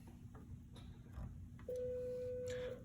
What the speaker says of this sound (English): Disregard that phone noise.